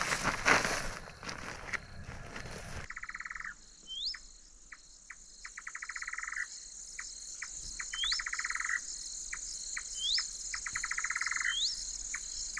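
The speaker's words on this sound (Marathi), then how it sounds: "आवाज बघितलाय पक्ष्याचा" Birds calling in farm fields during wheat season, repeated rhythmic chirps and short trilled bursts at moderate distance, with insects and frogs buzzing steadily underneath after a brief rustling start.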